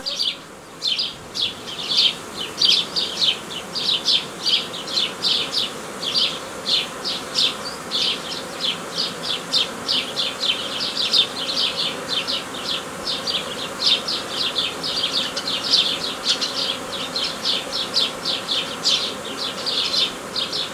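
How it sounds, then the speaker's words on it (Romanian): Honeybees swarming around an open hive while a hobby beekeeper brushes them off the frames: a steady, dense buzzing close by that pulses constantly. "Vom îndepărta albinuțile cu peria."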